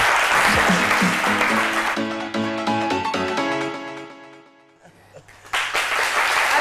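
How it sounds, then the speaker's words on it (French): Studio audience applauding a guest on a French-language midday TV talk show, a dense burst of clapping that fades as music plays, then swells back loudly near the end. "Je vais vous demander de l'applaudir très, très, très, très fort."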